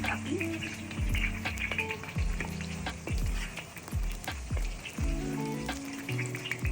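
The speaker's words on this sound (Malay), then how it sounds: "Minyak dah panas So kita masukkan kita punya serai yang dah dikitik" Crushed lemongrass dropped into hot oil, sizzling and crackling steadily in a pan with repeated soft stirring knocks and scrapes, fairly quiet and close.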